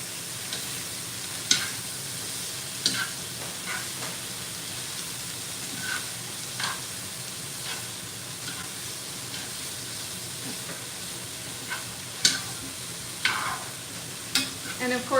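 Steak fajita vegetables sizzle steadily in a hot pan on high heat, a constant hiss broken by occasional pops and stirring scrapes, close and alone without talk.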